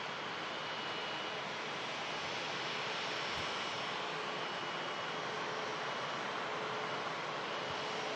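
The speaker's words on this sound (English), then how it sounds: "Singapore Airlines A350. Looking very smart here. Look at them engines. Trent XWB Rolls-Royce engines." A Singapore Airlines Airbus A350 with Rolls-Royce Trent XWB engines produces a steady, broadband jet roar, faint and distant, holding constant throughout with no talk over it.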